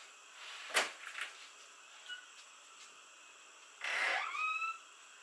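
Back door of a house being opened, with a sharp click and rattle of the latch, then a louder scraping swing with a short creak, fairly close in a quiet room.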